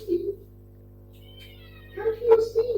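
A pet cat named Steve meows in a short call at the start, then gives a louder cluster of meows near the end, close by and over a low steady indoor hum, with no talk.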